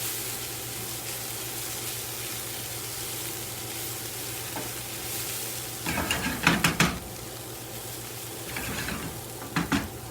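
Onions caramelize and sizzle in a pan with a steady, close frying hiss, while a few short bursts of scraping and rattling mark them being stirred and the pan being shaken.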